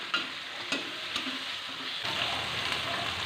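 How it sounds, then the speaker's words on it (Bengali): Fried potatoes and spices sizzle and crackle in a pan for mutton ghugni, steady frying hiss with a few sharp scrapes of a stirring spoon. "আবার একটু ভালো করে আলুগুলোর সাথে মশলাগুলো কষিয়ে নেব"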